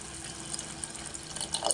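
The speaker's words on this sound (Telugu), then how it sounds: "కొంచెం వాటర్ పోసేద్దామండి" Water pours steadily into a cooking pan, a continuous close splashing wash with slight surges near the end, no voices.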